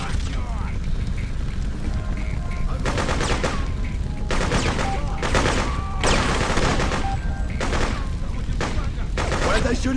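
Video game gunfire in bursts of rapid shots, loud and repeated across the whole stretch, with someone talking over the firing.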